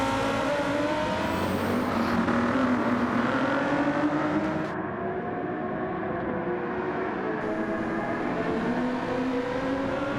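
Engines of racing cars, a Porsche and a Lamborghini, in a racing video game, a steady loud droning whine with rising and falling pitch sweeps as the cars run together, continuous throughout with no voices.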